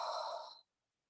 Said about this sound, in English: And take a breath out.